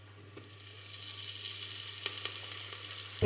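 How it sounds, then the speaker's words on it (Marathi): Spices sizzle steadily in hot oil over a low gas flame, a continuous bright crackling hiss with a few soft stirring clicks, close and fairly loud with no talking. "आता हे सर्व मसाले आपल्याला कमी गॅसवरती चांगले परतून घ्यायचे आहेत"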